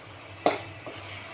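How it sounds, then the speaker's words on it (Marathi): Gravy sautés over a low flame with a soft background sizzle and two or three quick spatula scrapes through the thick mixture. "ग्रेव्हीला परतून घेऊ बारीक गॅसवर"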